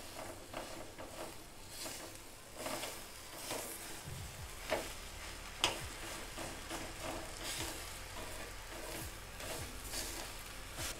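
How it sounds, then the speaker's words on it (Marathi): Lapshi broken wheat with jaggery is stirred and sautéed in a pan, giving a steady soft sizzle with repeated scraping strokes of the spoon throughout. "आता हे व्यवस्थित परतून घ्यायचं आहे आपल्याला."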